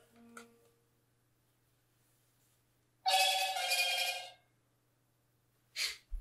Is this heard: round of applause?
no